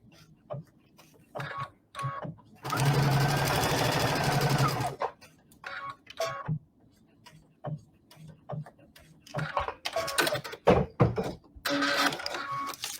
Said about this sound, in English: flip it over, and begin to stitch again